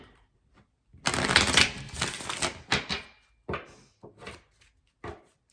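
Tarot cards being shuffled by hand, a dense riffling burst followed by several shorter, softer shuffles and taps in an otherwise quiet room.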